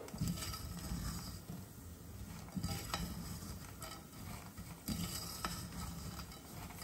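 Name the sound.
pistachios stirred in crystallizing sugar in a pan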